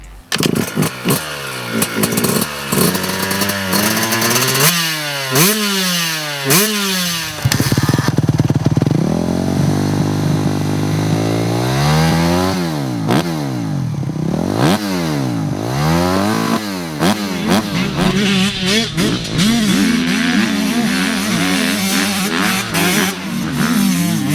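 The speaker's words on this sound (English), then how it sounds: "We have the 2023 Yamaha YZ125 and the Suzuki RMZ250, both the most affordable bikes in the class." A 2023 Yamaha YZ125 two-stroke and a Suzuki RMZ250 dirt bike rip past on a motocross track, engines loud and close, revving hard with repeated rising and falling whines through gear changes, one pass after another.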